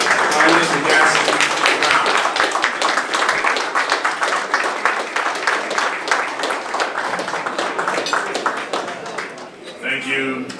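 Audience at a 2022 African leadership event applauding to welcome Antigua and Barbuda Prime Minister Gaston Browne, a sustained round of clapping from a large room that gradually thins toward the end.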